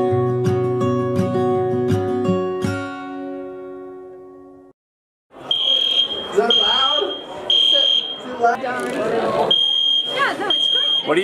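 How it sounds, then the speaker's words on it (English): Music plays and fades out, then an indoor fire alarm sounds in a run of sharp, repeated electronic beeps while people talk loudly nearby. "Trying to call the mission break to turn off this fire alarm."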